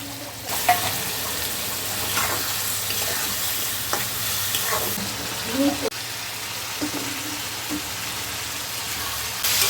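Turmeric and chili paste fry in a pan with a steady, close sizzle and occasional stirring scrapes, while a voice talks faintly underneath.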